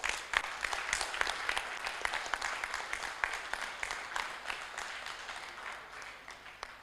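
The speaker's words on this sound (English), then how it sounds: "all a big clap for our chef" Audience applause in a conference hall for the event chef, steady dense clapping that swells early then gradually thins and fades over several seconds.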